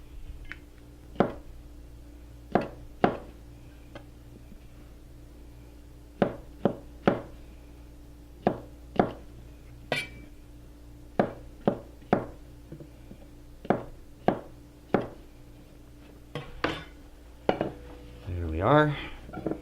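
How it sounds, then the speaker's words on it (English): A knife slices mushroom caps on a cutting board, producing a long series of sharp, irregularly spaced taps close by, with a brief rustle near the end and a faint background hum. "So, I'm going to go ahead and slice all of these up that way."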